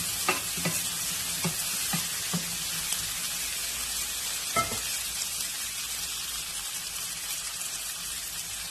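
Turai and meat sizzle steadily in a kadai while a spoon scrapes and taps the pan a few times early on, then frying continues alone.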